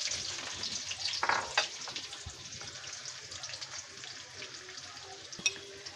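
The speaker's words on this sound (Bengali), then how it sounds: "আমার পেঁয়াজটা মোটামুটি ভাজা হয়ে গেছে।" Chopped onions fry in hot oil in a wok with a steady, soft sizzle. A few scraping stirs and light clinks come through near the start and again toward the end.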